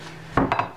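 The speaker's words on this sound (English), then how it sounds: "I'll get a plate out." A few quick ceramic clatters, a plate knocked and set against others, close and brief.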